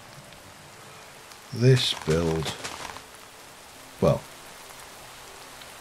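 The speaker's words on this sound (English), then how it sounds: "Apart from that, it's raining." Rain falls in the Minecraft modpack FTB Ocean Block, a soft continuous hiss that runs beneath a man's brief spoken remarks and carries on steadily throughout.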